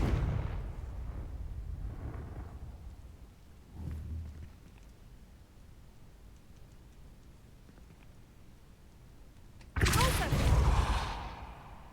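A Confringo fire-blast spell from Hogwarts Legacy, the video game, booms once near the start and again with a louder, bright explosive burst near the end, with a quieter rumbling hit between them.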